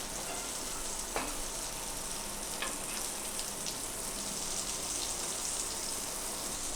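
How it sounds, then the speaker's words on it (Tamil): Raw banana slices coated in masala fry and get tossed in oil over a medium flame for vazhakkai varuval. A soft, even sizzle runs throughout, broken by a few faint crackles and pops. "எண்ணெய்க்குள்ளேயே அப்படி பரட்டி போடுங்க."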